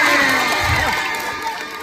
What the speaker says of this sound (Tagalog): Bakit hindi ho natin sabay-sabay palakpakan at hiyawan ang nag-iisang Herlin Nicole Mambubudol.